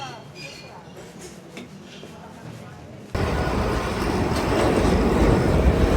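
Old train rolling through a Milan street near the cathedral, a quiet street murmur giving way halfway through to a loud, sustained broadband rumble that stays steady to the end.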